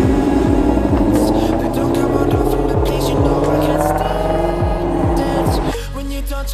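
A modified Infiniti car with a body kit revs its engine at an outdoor car meet, a loud, close, rising-and-falling roar that drops off sharply near the end.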